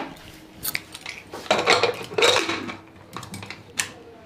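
A pot of chickpeas is set on a kitchen stove to boil, giving close metallic clanks and scrapes in several short bursts, fairly loud and without speech.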